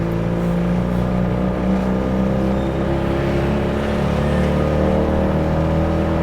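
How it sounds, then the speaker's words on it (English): Steady engine drone of a tuk-tuk in Thailand carrying a passenger, a continuous low rumble with a faint rise in revs, running close throughout with no talk. "I'll take a tuk-tuk ride back"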